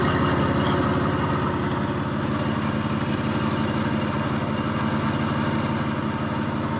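A 1954 Harley-Davidson FH 750 motorcycle engine runs with the choke off, a loud, close, steady throbbing idle that stays constant throughout with no speech.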